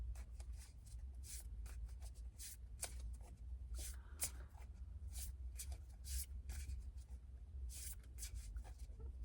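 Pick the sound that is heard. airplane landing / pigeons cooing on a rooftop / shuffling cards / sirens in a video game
shuffling cards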